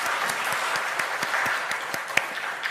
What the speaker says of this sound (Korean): 우리 다 같이 하나님께 영광의 박수 돌리겠습니다.